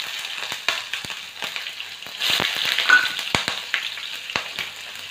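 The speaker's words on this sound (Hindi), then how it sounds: "अब मैं इसमें राई का तड़का लगाऊंगी।" Mustard seeds, cumin, carom seeds and green chillies sizzling in hot oil for a tempering, with a close, steady crackle and scattered sharp pops.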